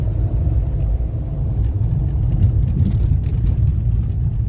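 A Suzuki Swift cruises steadily in fourth gear at about 55 km/h after engine decarbonising, its engine a low, even rumble with road noise in a closed cabin, no talking.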